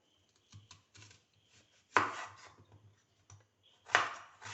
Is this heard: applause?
no